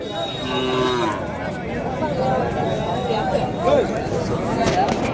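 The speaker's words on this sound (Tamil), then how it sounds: "இது வந்து ஒரு நல்ல கண்ணுக்குட்டி தான் ஆனால் வந்து இன்னும் சேல்ஸ் ஆகலை" Calves and cattle moo repeatedly at a native cattle market, close and fairly loud, over a steady murmur of crowd chatter and people talking nearby.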